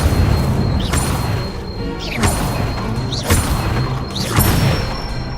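Incendio fire spell cast in Hogwarts Legacy: several quick whooshing bursts with short rising tones, spaced about a second apart over steady game background noise.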